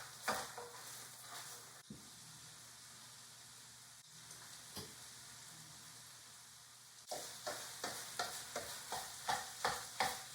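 A spoon scrapes and stirs ground meat, cream cheese and chili powder in a pan over medium to low heat for taco stuffed shells. There is a soft, steady sizzle, and the strokes turn into quick rhythmic scrapes toward the end.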